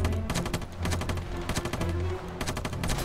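Rapid bursts of automatic gunfire crackle in a zombie-infested bunker battle game, dense volleys of sharp shots repeating almost continuously and loud throughout.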